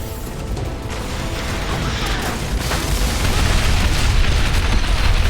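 A nuke detonating in the video game Shadow Complex Remastered: a loud, dense rumbling blast that swells and grows heavier over several seconds, with rattling mechanical debris noise layered through it.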